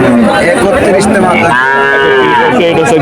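Cattle low loudly and close by at a busy calf market, one long drawn-out moo rising over a constant background of crowd chatter and bustle.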